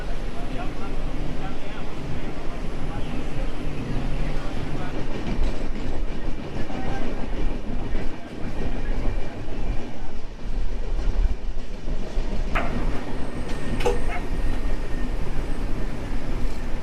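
The Puruliya–Howrah Ruposhi Bangla Express passenger train pulling out of Garhbeta station: a steady rumble with rhythmic clickety-clack of wheels on rails and a couple of sharp squeaks near the end.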